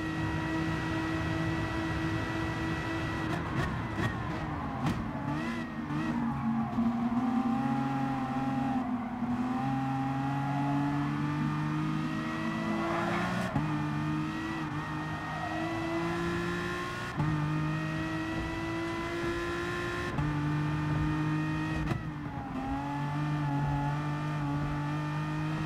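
Race cars in Gran Turismo Sport on the Tokyo circuit drone with steady, high engine tones that shift pitch through gear changes and rising revs. Several engines overlap while jostling for a slipstream, loud and continuous.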